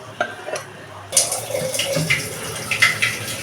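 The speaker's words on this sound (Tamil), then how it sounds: "இதில் கொஞ்சமாக தண்ணி சேர்த்துக்கலாம்." Water splashes and trickles into a cooking pot of cooked drumstick leaves and boiled lentils, a close, continuous pour with faint metallic clinks and no speech.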